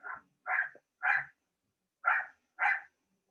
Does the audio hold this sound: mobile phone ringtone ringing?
no